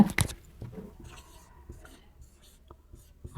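Writing by hand makes faint pen scratches and light taps on paper. A couple of louder rustles start and end the quiet stretch.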